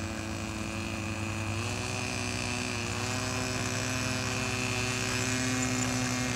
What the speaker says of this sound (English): The rotor's spinning reasonable now.